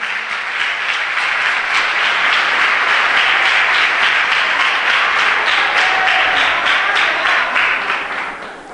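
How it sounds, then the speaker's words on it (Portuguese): A church congregation applauds during a worship service with sustained, full clapping from many people that stays loud and even for several seconds and then tapers off at the end, with no talking. "Pode aplaudir o Senhor."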